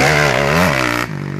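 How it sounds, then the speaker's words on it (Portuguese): A motocross motorcycle revs hard during cornering practice, a loud close engine whine that rises in pitch and then cuts off abruptly near the end. "Tá acelerando."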